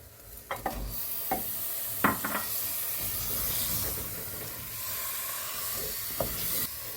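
Beef drops into a pan of fried fennel powder and sizzles with a soft, steady hiss, broken by a few sharp scrapes and clicks of stirring.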